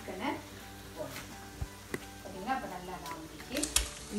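Chicken pieces sizzling as they go into a pan of fried onions for chicken biryani, a soft steady frying hiss with scattered clicks and stirring knocks, a voice talking over it.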